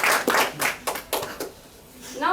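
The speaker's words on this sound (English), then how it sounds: "I would like you all to give them a round of applause." Scattered handclaps from the audience at a public-speaking club meeting, a few sharp irregular claps fading out over two seconds, followed by a voice beginning to speak near the end.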